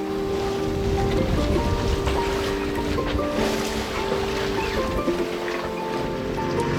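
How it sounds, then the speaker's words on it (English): A sailboat's engine drones steadily with a tonal hum while motoring in light wind off Maine, with water sloshing and rushing along the hull around it. "That is the sound of motoring."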